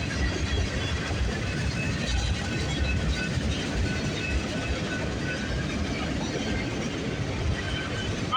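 The tail end of a westbound CPKC freight train passing close by, a steady loud rumble of rolling wagons on rail with faint squeals, continuous and unbroken.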